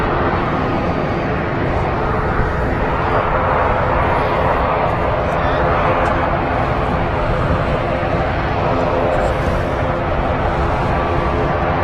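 A TUI Boeing 787 Dreamliner landing on runway 05L at Manchester Airport makes a loud, steady roar of jet engines for the whole stretch, heard from nearby without a break.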